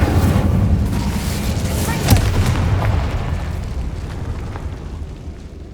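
A fire spell cast in a fantasy video game set in a catacomb, heard as a sudden whooshing burst with a sharp boom around two seconds in, over a dense rumbling layer of game sound and music that slowly fades.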